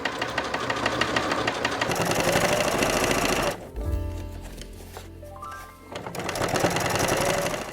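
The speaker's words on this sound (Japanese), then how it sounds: "ファスナーの際に押さえミシンをかけよう。" A sewing machine topstitches along the edge of a zipper on a small fabric item made from scraps. The motor runs in steady rapid bursts, pauses briefly midway with quieter fabric handling, then resumes close and loud.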